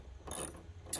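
A ratchet backs out a bolt on a Honda Ridgeline hood hinge, giving a quiet, close burst of ratcheting followed by one brief sharp click.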